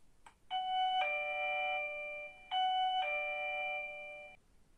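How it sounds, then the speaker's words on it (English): A two-tone electronic chime from a budget video doorbell plays twice in clean succession, each ding-dong ringing out clearly with no voices. "it has a prominent doorbell switch that makes an audible sound when pressed."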